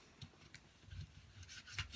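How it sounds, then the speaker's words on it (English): A bone folder rubs along the crease of a paper greeting card, a handmade kids' crayon coloring card, giving soft, faint scraping strokes in several short bursts that repeat irregularly. "take your bone folder, lay it flat, take your bone folder and just kind of rub it in there"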